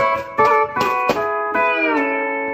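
A pedal steel guitar plays a classic country intro through a regular amp patch. Bright plucked notes and slides run into a sustained, bending final note, close and clear with no talk.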